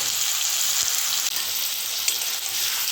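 Fried cauliflower and a prepared spice mix sizzle loudly in a pan for a vegetarian cauliflower roast, a continuous close frying hiss with a couple of brief knocks and no voices.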